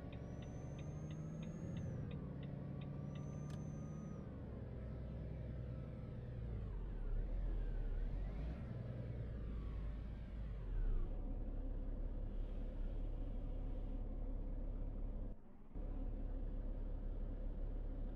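Volvo FH16 540 truck in Euro Truck Simulator 2, its deep engine rumble climbing and dropping as it shifts up through the gears, with a hiss of air release near the start and a brief cut in sound near the end.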